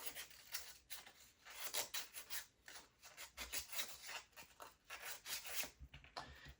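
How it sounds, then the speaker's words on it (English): Steady back-and-forth sanding strokes on a small wooden part for a UGears Tracked Off-Road mechanical model kit, a dry rhythmic rasping repeated many times at close range with no talk. "That one needs to be sanded."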